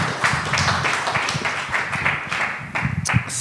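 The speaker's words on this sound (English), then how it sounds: "Can we give them a round of applause?" Audience applause fills the room, a dense steady patter of many hands clapping at moderate loudness with a few sharper claps standing out near the end.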